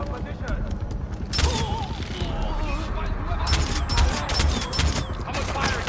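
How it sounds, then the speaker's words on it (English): Gunfire in the Far Cry 4 shooter game comes as several sharp bursts of shots, loud and close, spread among a steady background of game sound, with voices heard alongside. "Someone's firing!"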